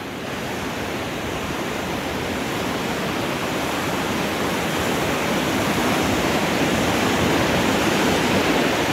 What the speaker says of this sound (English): So this is the weir I come down on my kayak. Which, when the water's up like this, is awesome because it's nice and fast.